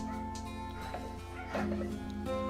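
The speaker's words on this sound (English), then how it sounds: "there are dogs walking around outside, so that's why you may hear that cacophony in the background" Dogs outside barking and yipping in a restless cacophony, faint and distant beneath a steady hum and a game's hot spring scene audio.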